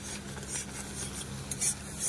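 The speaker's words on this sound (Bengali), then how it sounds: "দেখুন এরকম করে নাড়তে হবে, সবসময় নাড়তে হবে, নাহলে ধরে যাবে তলায়।" Thickened mango pulp is stirred in a pan for aamsatta, with soft scraping spoon strokes and light clinks against the metal, close and fairly quiet, with no voices.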